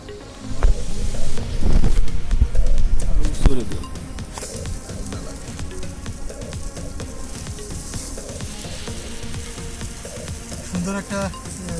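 Fish sizzling in oil with spices in a pan at an outdoor campsite. A loud, crackling fry in the first few seconds settles into a quieter, steady sizzle, with a little wind noise.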